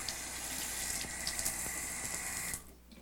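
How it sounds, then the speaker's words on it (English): Automatic faucet in a bathroom with a walk-in shower, running water in a steady close gush that stops abruptly near the end, leaving a quiet room. "there's an automatic faucet"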